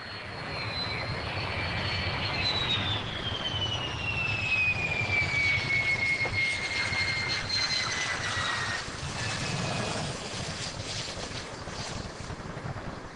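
An IAI Lavi jet fighter's engine gives a loud, sustained roar with a whining tone that falls in pitch as the aircraft passes, alone without speech.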